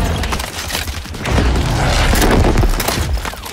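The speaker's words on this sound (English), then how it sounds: "Launching grenade!" A grenade launched in the Battlefield V game trailer, a loud, dense booming blast swelling midway and sustained with rumbling battlefield noise around it.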